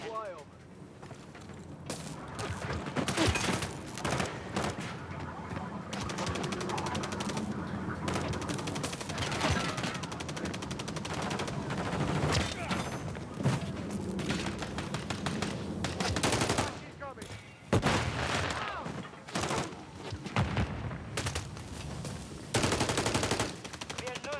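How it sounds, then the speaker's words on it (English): Sustained automatic gunfire and bursts of shots in the video game Call of Duty: Modern Warfare III, loud and dense with brief lulls, mixed with in-game voice callouts and talking throughout. "Taking effective fire."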